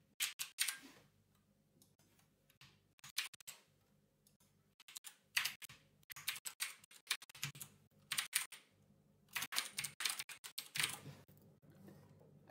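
Name being keyed in on a computer keyboard while creating a new client in tutoring management software: irregular bursts of close, crisp key clicks with short pauses between words, alone in a quiet room.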